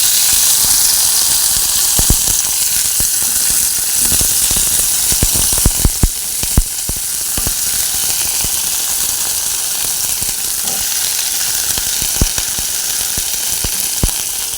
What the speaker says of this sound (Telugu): ఇప్పుడు ఇందులో బెండకాయ ముక్కలు వేసుకొని మగ్గనిద్దాం